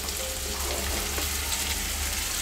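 Soybeans and potatoes fry in a pan with a steady, dense sizzle and crackle that holds evenly and fairly loud throughout, with no voices.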